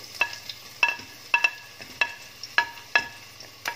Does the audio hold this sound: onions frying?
yes